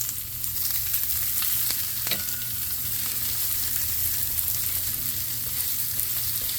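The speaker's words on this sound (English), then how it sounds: "We're just gonna let that cook. Just press it down, make sure them onions is down in that meat." Smash burger meat and onions frying on a hot flat surface, a loud, dense, continuous sizzle with faint scattered pops throughout, no voices.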